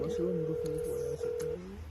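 During a prank call, a telephone line rings with a steady electronic tone that pauses briefly near the middle. A voice talks over the tone.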